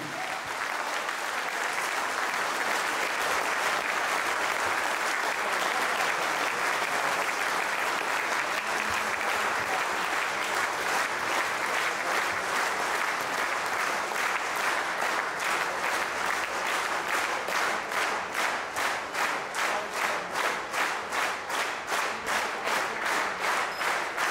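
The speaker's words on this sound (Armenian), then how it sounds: "Ես ուզում եմ շատ բարձր ծափահարենք մեր զինվորներին, այնքան բարձր, որ մինչև առաջնագիծ լսվեն մեր ծափերը" A concert audience applauds for the soldiers in loud, sustained applause. Partway through, it gradually turns into steady rhythmic clapping in unison.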